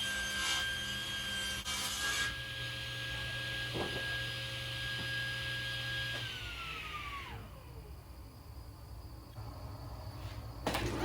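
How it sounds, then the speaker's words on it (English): A table saw runs with a steady high whine while ripping black walnut boards to final size, then spins down with a falling pitch near the middle before a brief renewed cutting burst at the end, heard up close without talk. "then went over to the table saw and I ripped the boards down to their final size"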